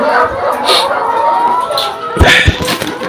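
A chicken on a layer egg farm clucks while it eats, giving soft clucks and a few sharp pecking taps near the end, recorded close up with no talking.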